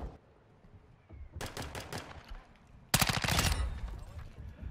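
Video game gunfire in bursts: a rapid automatic volley partway through, then a louder, denser close burst, with faint game ambience between.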